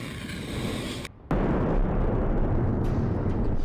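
A big missile-strike explosion in eastern Poland near Ukraine, a loud roaring blast that briefly cuts out, then rushes back as a sustained rumbling boom with no voices.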